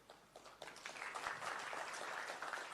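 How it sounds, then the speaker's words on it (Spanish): An audience at a Spanish-language panel talk applauds, scattered claps quickly swelling into sustained moderate clapping heard from a slight distance. "Muchas gracias por los aplausos."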